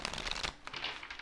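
A deck of pick-a-card oracle cards is shuffled by hand, giving a rapid papery riffle that runs for about half a second, then a short second flurry of crisp card flicks.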